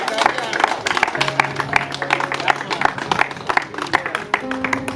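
Audience clapping in a crowd at a gathering, dense scattered hand claps running under ongoing talk and overlapping voices.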